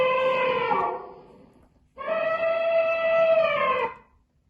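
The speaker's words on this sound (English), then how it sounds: "Well done! It's an elephant." An elephant trumpets twice, two loud brassy blasts with a brief pause between them, the first sliding down as it fades and the second held steady before cutting off.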